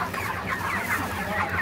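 Large broiler chickens, roughly two kilograms or more, cluck in overlapping, busy calls throughout a poultry farm shed, close and steady with no talking.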